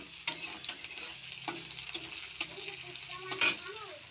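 Cumin seeds and onion sizzle and fry steadily in a pan, a soft continuous crackle with sharp stirring scrapes and occasional louder pops, close by and alone without talk.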